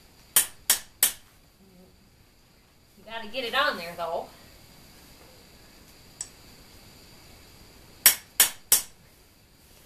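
Sharp metallic taps from a socket driving a new plastic washer motor coupling onto the motor shaft: a quick run of three near the start and another three near the end, with someone talking between them.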